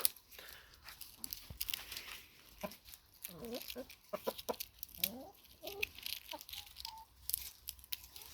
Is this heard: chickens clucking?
yes